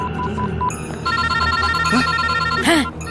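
Mobile phone ringing with a looping electronic ringtone melody, loud and continuous, layered over background noise and faint voices.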